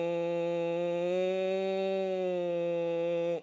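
A voice imitates the buzz of a flying drone with a steady, even, nasal hum held for about three seconds before cutting off abruptly, close and alone with no other sound.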